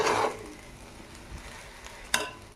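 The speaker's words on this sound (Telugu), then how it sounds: "మళ్ళా ఒకసారి కలిపుకుందాం" Coriander rice with green chilies and a spoonful of salt being stirred in a pan, a soft scraping and sizzling swirl loudest at the start, then quieter rustling with a sharp spoon clink near the end.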